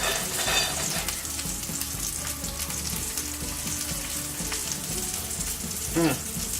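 Shiitake mushrooms with fresh thyme frying in a pan, a steady close sizzle and crackle with stirring, ending in a brief louder spatter; no talk.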